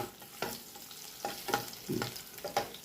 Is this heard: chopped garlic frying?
yes